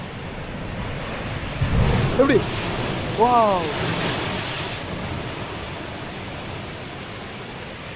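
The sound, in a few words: ocean waves surging through blowhole at Pancake Rocks, New Zealand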